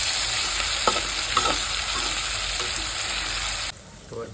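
Onion curry cooks in a pan with a steady close sizzle of frying, occasional stirring scrapes and clinks, and a faint voice near the end as the sizzling stops.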